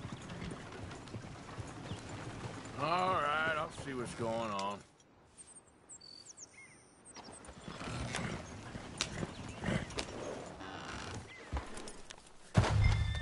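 Horse hooves clip-clop on the ground in the Red Dead Redemption 2 video game, soft and steady beneath game characters talking, with background ambience continuing throughout.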